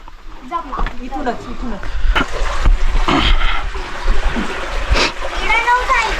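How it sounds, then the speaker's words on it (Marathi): Natural water flows and splashes in Sandhan Valley, a rocky canyon on a Sahyadri trek in Maharashtra, loud and close, with voices talking over it and splashes as people move through. "हे नॅचरल पाणी बघा,"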